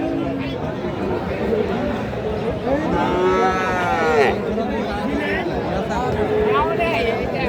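Friesian and crossbred cattle moo at a busy village livestock market. A drawn-out, loud moo rises over constant crowd chatter and nearby voices.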